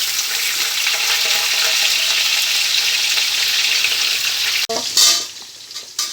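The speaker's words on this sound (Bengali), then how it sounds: "প্রথম সবজি পড়লো আলু পটল" Potatoes and pointed gourd fry in a pan with a loud, steady sizzle close by for about five seconds. A sharp clatter and stirring follow, with no talking.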